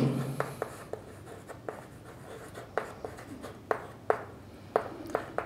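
Quick scratchy strokes of writing on a board during a class 8 maths lesson, a series of short taps and scrapes in an uneven rhythm, fairly faint and close, with no talking.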